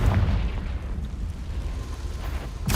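Confringo fire-blast spell in the wizarding video game Hogwarts Legacy: a sustained, heavy low rumble like a lingering explosion, with a fresh burst striking at the very end.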